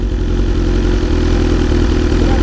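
A large 1,000 cc BMW motorcycle engine idles with a loud, steady, throbbing rumble, close by and uninterrupted.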